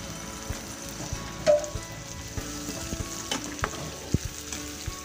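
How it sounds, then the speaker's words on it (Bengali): A spice mixture fries in a pan with a little water added, keeping up a steady, close crackling sizzle broken by a few spoon taps and scrapes, with no voices. "সামান্য একটু পানি দিব"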